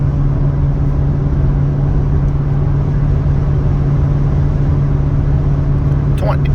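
A car's V8 engine cruising at highway speed while trying to switch into 4-cylinder mode: a steady low droning hum with road noise, loud and constant from inside the cabin.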